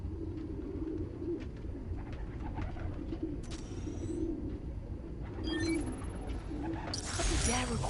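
Pigeons coo in a park inside the Spider-Man: Miles Morales video game, a steady low murmur of many birds under background noise, with brief chirps and a bright tone near the end.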